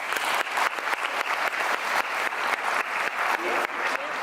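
A conference audience claps steadily and loudly in a hall as a show of hands for a vote, forming a dense, even wash of clapping that lasts throughout with no talk.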